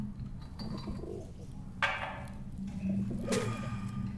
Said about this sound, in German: Und wieder einmal Tauben.